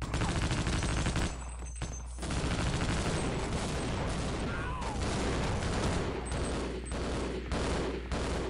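Dense gunfire in Half-Life: Opposing Force rattles in rapid bursts, loud and close, with brief pauses and a few heavier blasts mixed into the continuous shooting.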